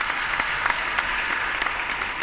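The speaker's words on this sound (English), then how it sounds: "Can you put a lot of applause in the editing?" A short burst of dense applause, added in editing, with many hands clapping at an even level for about two seconds and no voices.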